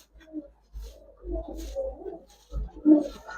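Male Giribaz racer pigeons cooing close by, several low soft throaty coos in uneven bursts over a faint low hum.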